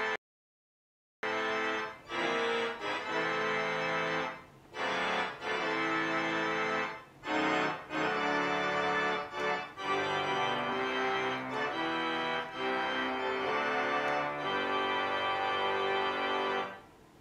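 Bright, brassy reed stops on a residence pipe organ play a series of sustained chords, added to the full choir chorus, in a large, resonant space, starting after a moment of silence.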